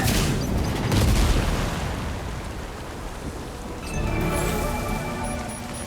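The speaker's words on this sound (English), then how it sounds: "Blood grenade!" A blood grenade in the video game Death Stranding 2 sets off a heavy booming blast, which rolls into a rumbling wash of debris and rain-like noise and is followed by a second swell and faint tonal game sounds.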